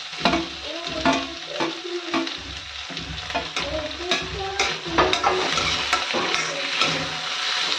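Peas, carrots and tomatoes fry in a pan with a busy sizzle, broken by frequent scraping stirs and light clinks of the utensil against the pan, close and fairly loud throughout.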